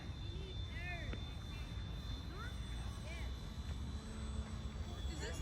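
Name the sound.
Hobbyzone Carbon Cub S2 RC plane flying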